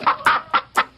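Chickens cluck in a radio advert, with five quick, clear clucks in an uneven rhythm, close and prominent, with no speech over them.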